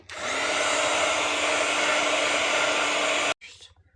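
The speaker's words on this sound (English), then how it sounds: "Here's my heat gun." A handheld heat gun blowing to dry a layer of craft paint gives a loud, steady, close whooshing roar for over three seconds, then cuts off abruptly, leaving faint brief noises.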